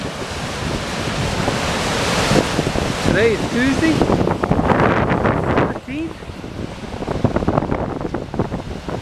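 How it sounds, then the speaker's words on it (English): Strong wind roars over the Potomac River at Dam Number 5 on the C&O Canal in Clear Spring, Maryland, a loud buffeting rush hitting the microphone while someone talks over it. "Wind's pretty strong"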